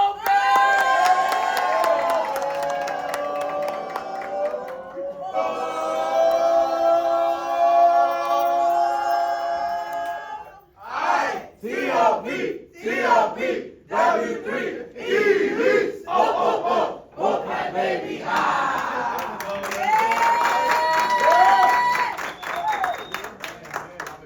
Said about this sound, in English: let me get a big, bigger, bigger, round of applause for Carlos